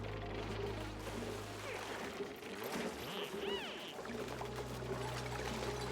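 Water pouring and trickling out of an opened area in Oxygen Not Included, a steady running flow under game hum with a few rising synthetic chirps midway.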